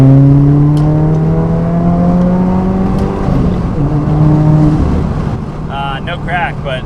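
Pro-tuned Subaru WRX accelerating hard through traffic, engine note climbing steadily in pitch, then a shift and renewed pull, heard loud from inside the car with open windows and a brief chirpy noise near the end.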